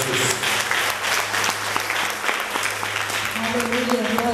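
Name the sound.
audience applauding in church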